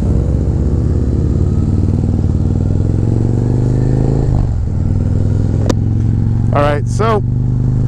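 A Harley CVO Road Glide fitted with an S&S 128 kit and its rev limiter removed runs loud and steady. It holds a deep, continuous rumble throughout, with people talking over it and a couple of brief higher sounds near the end.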